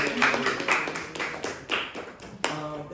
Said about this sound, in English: So when I do my intro, I need everybody to clap